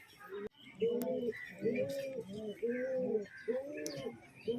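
Madras pigeons coo repeatedly in a steady series of soft, throaty rolling calls, close by, with faint chirps and a brief click early on.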